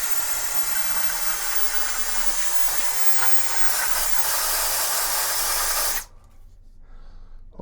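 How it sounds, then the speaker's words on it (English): A loud, steady hiss of compressed air blasts dust out of a Macintosh Classic II computer for about six seconds, then cuts off abruptly, leaving quiet room tone. "I just want to blast this dust out of here because it is quite bad"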